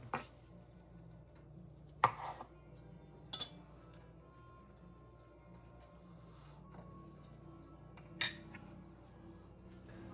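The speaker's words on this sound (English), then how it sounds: "I'm just going to give these a rough chop" A knife roughly chopping fresh basil leaves on a board in a home kitchen, heard as a few sharp, separate cuts spaced several seconds apart over a quiet room background.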